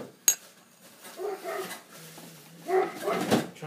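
Dog barking on a walk, provoked by a neighbour: a sharp close click followed by a few muffled barks and whimpering yelps, fairly faint against quiet outdoor background.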